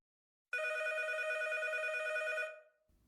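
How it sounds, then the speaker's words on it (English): A telephone rings once with a long, steady electronic trill lasting about two seconds, clear and close against silence, then fades out. "It all began with a phone call."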